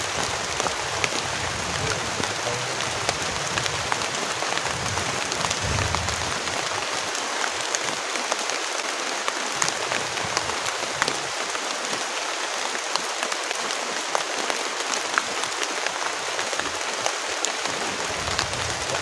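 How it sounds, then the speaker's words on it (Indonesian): Heavy rain during a stormy camping trip pours steadily onto surfaces near a hut, a dense, continuous hiss of drops close by with no talk. "karena hujannya deras banget teman-teman"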